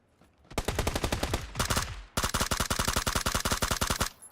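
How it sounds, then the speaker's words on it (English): Rapid automatic gunfire in PUBG, two long bursts of evenly spaced loud shots separated by a brief pause, sharp and close with no talk over them. "I'm not shooting very well today"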